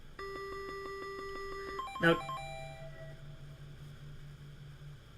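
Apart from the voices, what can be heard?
mobile phone notification beeping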